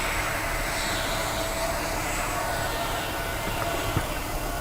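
An RC MiG-29 Fulcrum jet with a 64mm electric ducted fan on a 4000 lipo, powering back up in flight, giving a steady broad whooshing whine that holds evenly throughout outdoors.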